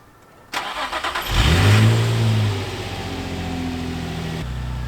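A Nissan 350Z engine cranks with a quick series of starter pulses, catches with a sharp rev that swells and falls away, then settles into a steady, close idle.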